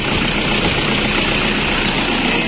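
A Toyota Innova engine idles steadily and loudly, with a dense, constant rumble and no voices over it.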